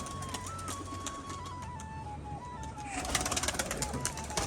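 Giribaj pigeons coo amid a busy outdoor din, then a burst of fluttering wingbeats grows louder near the end as the birds are released from their loft and take off.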